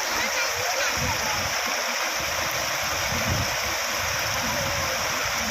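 A waterfall stream roars with strong flowing water, a dense, loud, continuous rush close by, with voices talking over it at times.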